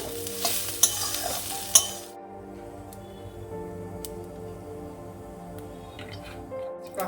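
Spices and paste frying in a pan for a light soybean and potato vegetarian curry, a loud crackling sizzle with stirring scrapes for about two seconds, then a quieter steady simmer with occasional faint clicks of the utensil.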